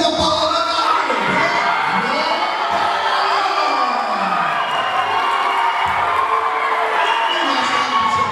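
A loud, dense crowd cheers and shouts continuously at a women's fight event as a 72-kilo fighter is introduced, with whoops and scattered applause rising and falling throughout.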